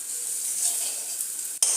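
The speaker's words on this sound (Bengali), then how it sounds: "এখানে আমি একটু নাড়ছি," Suji fries in a pan for jhal suji while being stirred, a close, continuous sizzle with soft scraping strokes and a brief clatter near the end.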